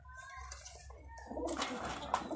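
Giribaj flying-sport high-flyer pigeons from Rajshahi: a brief, low coo heard close by, quickly giving way to rustling and fluttering noise.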